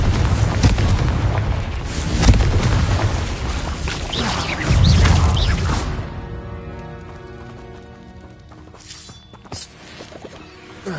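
A Confringo fire spell exploding in Hogwarts Legacy, with loud, boomy blasts in the first six seconds, then fading into a quieter shimmering magical tone with a few softer hits at the end.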